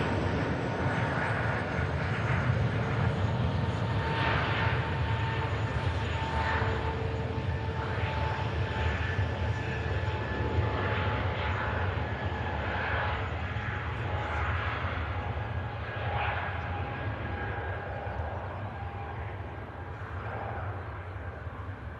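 A Scandinavian Airlines airliner departing from an airport, a steady broad jet roar that fades slowly as it pulls away, heard from a distance with no talk.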